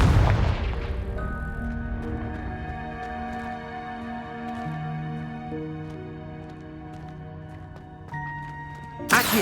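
Confringo blast spell in Hogwarts Legacy, a deep boom at the start that decays into a long ringing tonal tail and swelling game music, followed by another sharp burst at the end.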